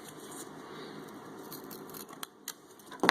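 A small piece of balsa wood trimmed for a model bridge, quiet scattered snips and light cuts building to a sharp louder crunch at the end.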